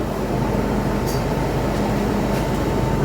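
Metro train at Sheung Wan Station in Hong Kong, a steady loud rolling rumble and hum from the carriage with a couple of brief high squeaks, no talking.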